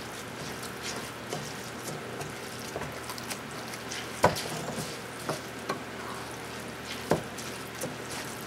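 Ghana-style jollof rice cooking in tomato stew in a pot, a steady low sizzle and bubbling with occasional soft scraping knocks from stirring, fairly quiet and close.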